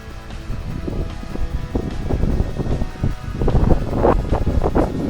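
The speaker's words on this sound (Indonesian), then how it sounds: "Anginnya kencang ya." Strong wind buffets the microphone outdoors after a firecracker set in a bucket is lit, a loud continuous rumbling roar with gusty surges and no speech.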